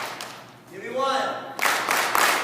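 After an adult's voice, a group of Boy Scout kids bursts into three quick, loud, close claps that overlap into a brief ragged clatter.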